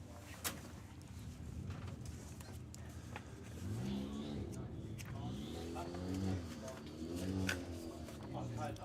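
A Skoda and an Audi drag racing car launch off the line at a Sportsman Nationals drag strip, engines droning and then revving harder, heard at a distance under steady crowd noise and commentary.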